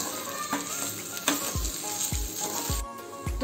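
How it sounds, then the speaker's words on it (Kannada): Fresh grated coconut frying in ghee for jackfruit payasa, a bright close sizzle punctuated by several soft low thumps of the spoon against the pan in a loose rhythm. "ಒಂದು ನಿಮಿಷ ಅಥವಾ 2 ನಿಮಿಷ ಚೆನ್ನಾಗಿ ಫ್ರೈ ಮಾಡ್ಕೊಳ್ಳೋಣ ಈ ಹಸಿ ಕೊಬ್ಬರಿ ತುಪ್ಪದಲ್ಲಿ"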